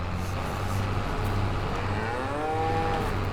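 Cows mooing in Farming Simulator 22, several drawn-out moos rising and falling over a steady low engine hum.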